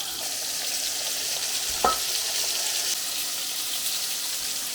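Crucian carp sizzle steadily in an uncovered frying pan, a continuous crackling hiss with a brief clink of a utensil partway through.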